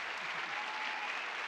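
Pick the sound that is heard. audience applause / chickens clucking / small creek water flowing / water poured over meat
audience applause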